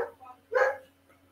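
A dog barking indoors at a distance, one short muffled bark after brief faint sounds, with a low steady hum in the background.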